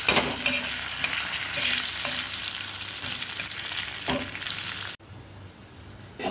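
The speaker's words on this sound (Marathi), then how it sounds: "कांदा आणि खोबरं परतून घ्यायचं त्या तेलामध्ये" Onion and coconut frying in oil for a chicken kala masala, with a continuous loud sizzle and stirring scrapes for about five seconds before it cuts off sharply to a quieter background.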